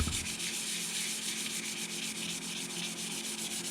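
Sandpaper rubbed by hand over cured UV grain filler on wood, a steady close scratchy sanding with quick back-and-forth strokes, continuous and alone.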